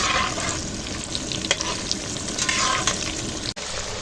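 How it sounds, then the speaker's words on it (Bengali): Sliced pointed gourd fries in a pan during Bengali cooking, producing a dense, close crackling sizzle with occasional stirring clatter and one sharp dropout near the end. "এখন আমি পটলটা ভেজে নিই"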